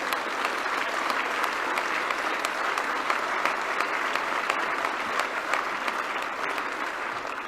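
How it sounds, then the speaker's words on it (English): A crowd at a UKIP leadership acceptance speech applauds continuously, a dense, steady patter of many hands clapping at even loudness throughout. "Please give him a round of applause."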